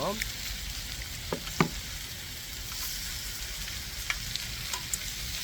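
Pork belly sizzles on a cauldron-lid grill at an outdoor hillside cookout, a steady close crackling hiss with a few sharp pops and spatters and occasional clinks of utensils, no talking.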